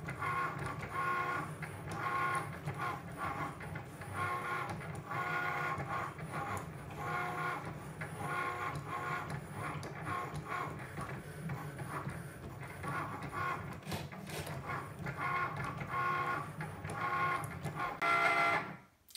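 A Cricut cutting machine drives its blade through material with a steady, close mechanical whir and rhythmic stepping motor pulses that carry on for the whole stretch, ending in a short final movement.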